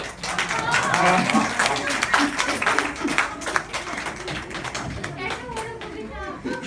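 Audience applause in a hall after a children's poetry recitation: a lively patter of many hands clapping, near and fairly loud, fading slightly, with voices talking underneath.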